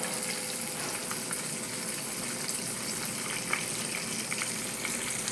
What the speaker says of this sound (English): There's my fish fry.